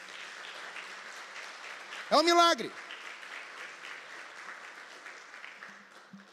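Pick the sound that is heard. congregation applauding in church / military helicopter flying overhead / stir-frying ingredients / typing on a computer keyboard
congregation applauding in church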